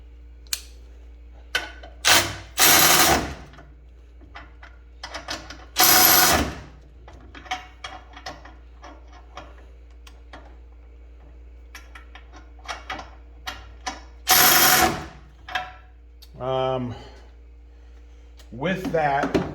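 Milwaukee and Snap-on extended head ratchets drive fasteners in several loud mechanical bursts of whirring and clicking, separated by shorter taps and quiet gaps, with talk between runs.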